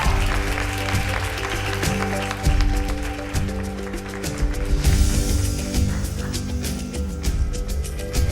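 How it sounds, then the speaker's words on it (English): Audience applause at the 2018 Anzisha Prize Awards Gala fills the hall as a steady, dense wash of clapping, mixed with loud music carrying strong low tones throughout. "let's give a big round of applause for a job that we wouldn't envy"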